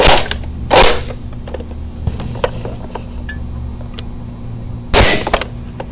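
A Nerf blaster firing a 2.5-inch streamlined dart with a hot glue head, sharp loud pops near the start and again near the end, with faint mechanical clicks between them.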